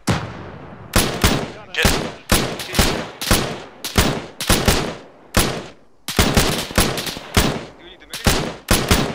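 Suppressing gunfire in a military combat game: a long run of loud, close bursts, roughly a dozen sharp volleys in fairly regular succession, each with a short decaying tail, and brief speech squeezed between them.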